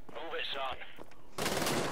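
A heavy gun fires in Wolfenstein: The New Order, a loud burst of sharp, rapid shots that break in abruptly after a brief stretch of quieter game sound and overlapping voice.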